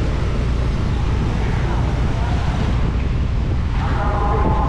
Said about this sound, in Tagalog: Ang lakas kasi ng hangin.